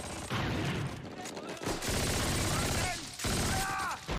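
MG42 machine gun fire in a Band of Brothers war scene comes as dense, loud bursts of rapid shots with brief gaps between them. Battle noise and voices run underneath.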